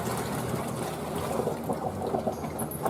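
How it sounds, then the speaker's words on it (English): Water poured out of a cooking pot into a kitchen sink, a steady close-up gush and splash held at an even level throughout. "let the drippings drip down in the sink while I get rid of this water"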